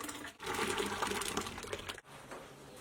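A liquid fertilizer mixture of water, sugar and chickpea flour is poured into a barrel, a steady rushing splash for over a second that then tapers off to a quieter trickle.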